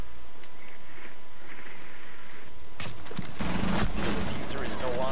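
Gunshots in the Rainbow Six Siege shooter game, a quiet stretch followed by a loud cluster of sharp shots and rattling fire, with a voice speaking amid the action.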